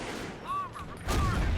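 Gunfire crackles in a Company of Heroes World War II strategy match as a sniper picks off a machine-gun crew, with short bursts and louder impacts toward the end under excited commentary.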